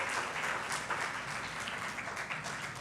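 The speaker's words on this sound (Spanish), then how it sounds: "¿Alguien da una ofrenda de palmas por estas palabras de nuestro Dios para cada uno de nosotros?" A church congregation applauding together, a sustained wash of many hands clapping at a steady, even level, filling the room with no voices over it.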